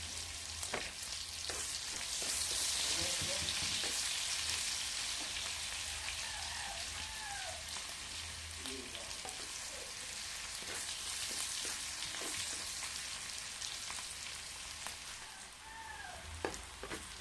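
Meat fries in a pan with garlic and onion, giving a steady, dense sizzle and crackle that runs unbroken for many seconds with faint stirring and no talk.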